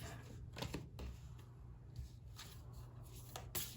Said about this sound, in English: These are hard to shuffle, guys, so I'm going to shuffle